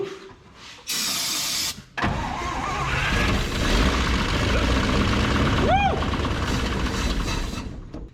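An abandoned 1959 Chevrolet truck fitted with a Buick Nailhead engine cranks and catches, then runs unevenly with a steady mid-pitched rumble up close, a brief high whine near the start and voices talking over it.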